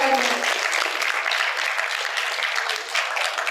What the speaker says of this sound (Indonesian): Tepuk tangan dong untuk Pak Danu